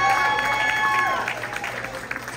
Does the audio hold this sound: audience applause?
yes